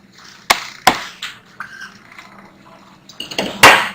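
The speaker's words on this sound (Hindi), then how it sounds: "यहाँ पर मैं अब इन सब चीज़ों को मिक्स करूंगी" Breadcrumbs being stirred with kalonji, ajwain and crushed red chilli in a bowl for a chicken bites coating, with a few sharp spoon clinks against the bowl and soft scraping and rustling between them, close and alone.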